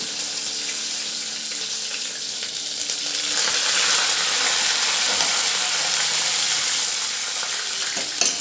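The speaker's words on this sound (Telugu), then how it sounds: "అది ఫ్రై అవుతున్నప్పుడు అండి ఇదో ఎండుమిరపకాయలు, పచ్చిమిర్చి, కరివేపాకు" Dried red chillies, green chillies and curry leaves sizzling in hot oil for tomato upma, a steady close crackle that grows a little louder midway, with occasional stirring and no talking.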